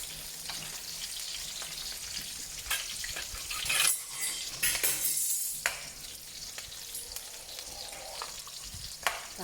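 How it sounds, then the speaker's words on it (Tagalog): Garlic and onion sizzle in a pan as they are sautéed, a steady crackling fry broken by occasional stirring scrapes and utensil clinks at moderate volume. "Isa tayo ng garlic, tapos sibuyas."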